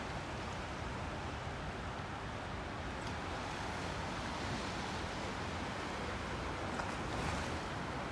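Waves wash onto a beach in Durres, Albania as a steady, broad rush of surf, with some wind noise on the microphone and no talking.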